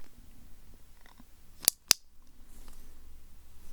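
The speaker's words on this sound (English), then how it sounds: "tell me when there is a clicking sound" Two sharp, close clicks from a handheld tool used in a mock cranial nerve hearing check, spaced about a quarter second apart over quiet room tone.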